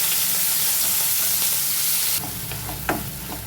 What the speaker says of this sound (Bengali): তেলে এবার পেঁয়াজ কুচিটা দিয়ে দিচ্ছি।